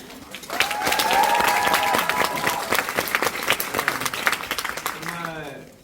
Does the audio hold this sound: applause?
yes